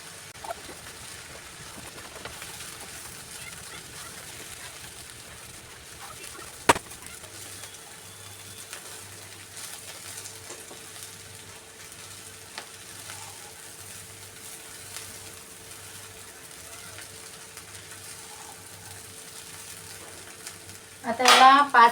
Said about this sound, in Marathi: भात चांगला सर्व मिक्स करून घेऊया